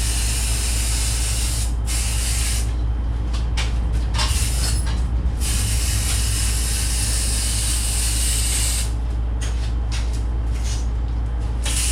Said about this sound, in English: I got the etching primer underneath where I ain't gonna be able to paint